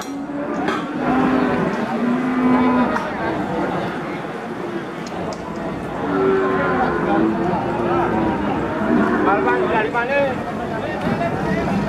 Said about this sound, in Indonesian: Ini tadi ada sapi marah, teman-teman.